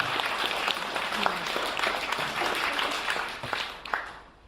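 An audience at an exhibition opening in a caricature museum applauds steadily, a dense continuous patter of many hands that carries on for several seconds and then tapers off at the end.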